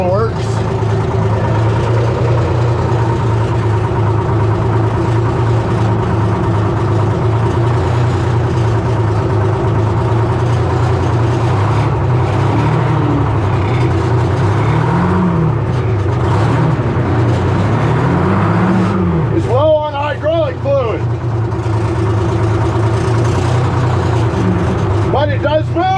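Diesel engine of a 1970 Hough International H60 payloader running close by with a steady rumbling idle, rising and falling as it is revved a few times, with people talking over it.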